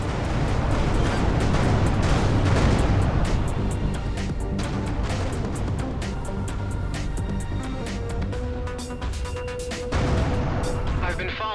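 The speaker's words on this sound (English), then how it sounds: "Vacate this area at once. Explosion imminent." Explosions in the space shooter game Everspace 2, loud rumbling blasts and crashing debris in a dense, continuous roar with a low hum underneath, sustained across the whole stretch.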